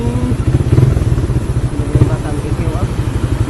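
Motorcycle engine on a ride back to the city, a loud close rumbling drone with rhythmic pulsing and some rattle, steady throughout with people talking over it.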